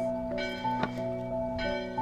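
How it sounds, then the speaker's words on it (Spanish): Church bells ring outside the Basilica of the Beatitudes with sustained, ringing tones and a few fresh strikes, heard at moderate distance in the open air. "Qué hermoso escuchar aquí las campanas de nuestra fe"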